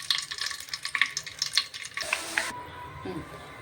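Bay leaf, cloves and cinnamon bark crackle and sizzle in hot oil, a short burst of spitting and popping with light stirring clinks, easing into a softer hiss near the end.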